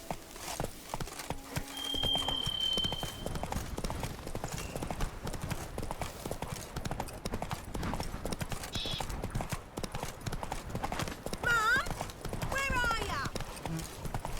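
Roach the horse galloping in The Witcher 3, rapid rhythmic hoofbeats under a man's speech, with a whinny and other game effects near the end.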